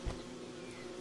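A bee buzzes in the survival game Don't Starve Shipwrecked, a short, close insect drone that hums briefly on its own near bee boxes.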